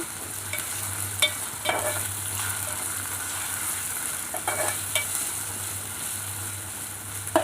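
Turmeric is stirred into a frying mixture in a pan for a yogurt curry: quiet sizzling under a steady low hum, with scattered scrapes and taps of the spoon against the pan.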